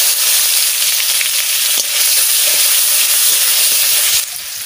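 Cumin seeds and garlic sizzle loudly in hot mustard oil, a steady dense crackling hiss close up that runs throughout with no talk.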